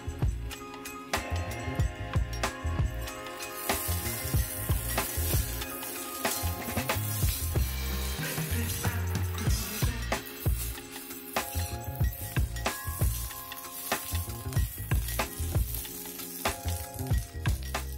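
Bitter gourd fries in a pan with ground coconut, garlic and cumin, a steady loud sizzle running throughout with scraping stir strokes and clatter mixed in, no talking.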